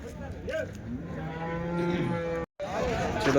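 Cows moo in several long, low calls close by at the Sunday cattle market in Chintamani, one after another, with faint background voices and a brief dropout near the end.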